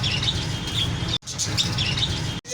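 Many birds and pigeons chirp and squawk together in a busy pet bird shop in Jhelum, a dense, continuous chorus of overlapping calls close by, briefly cut off twice.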